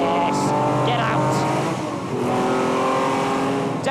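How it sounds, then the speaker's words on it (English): A race car at Silverstone brakes and downshifts into Beckett corner, its engine note rising and falling through quick revs with a brief dip mid-way, loud and close. "Let's take the early downshift now, that gives us more control of the front through the mid-corner of Beckett"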